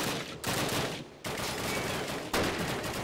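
Sustained automatic gunfire from a Call of Duty shooter game, dense overlapping bursts continuing loudly across the whole stretch with two brief breaks, no talk on top.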